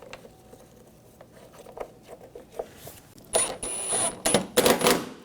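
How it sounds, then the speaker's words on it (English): Screws being tightened on the front bumper impact absorber of a 2013–2019 Ford Escape, with faint scattered clicks followed by louder ratcheting and whirring bursts from a close-up tool working on the fasteners. "And tighten those down."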